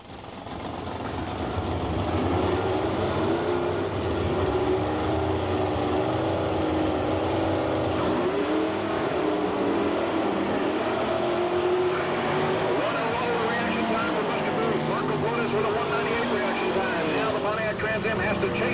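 Pontiac Trans Am and Chevrolet Camaro drag race down a strip at a 1989 event, producing loud, sustained engine roar that rises and shifts in pitch as the cars accelerate, with a commentator talking over it.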